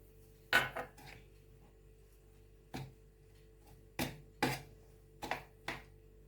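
Hawawshi meat filling with spices being mixed by hand in a bowl, heard as a handful of soft, irregular knocks and squelchy clatters spaced a second or so apart over a quiet background.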